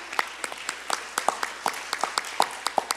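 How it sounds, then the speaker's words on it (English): Audience at a Black History Month kick-off event applauds community organizers and board members, a steady patter of many claps at moderate volume with no talk over it. "Big round of applause for all of them"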